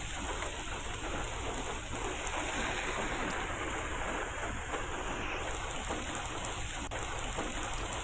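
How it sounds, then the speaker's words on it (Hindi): Steady monsoon rain pours without pause, a dense, even hiss of drops on surfaces with no voices over it. "तो कल से ही लगातार बारिश हो रही है और आज भी बारिश हो रही है।"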